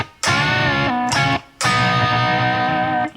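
A distorted electric guitar plays a solo lick, two short sustained phrases separated by a brief gap, loud and close.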